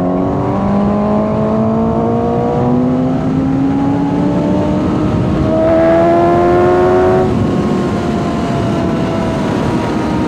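A 2018 Suzuki GSX-S 750 motorcycle engine revs loud and close, its pitch climbing in steady rising sweeps with one sharper surge near the end, no voices over it.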